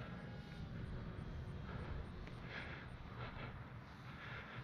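A radio-controlled Dynam DHC Beaver V2 model plane flies on its second outing, its small electric motor giving a steady, fairly loud drone with slight rises and falls as it passes through the air, with no talk.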